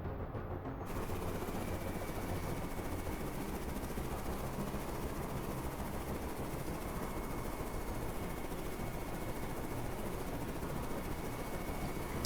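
Steady, dense rotor and engine roar of a helicopter in flight in the video game Carrier Command 2, continuous and fairly loud with no voices.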